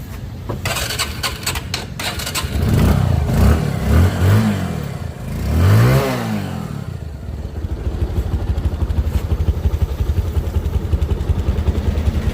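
An old Bajaj Discover 135 motorcycle in good running condition idles and revs close by, with two swelling throttle blips early on and then a steady, rapid engine putter that continues alone to the end.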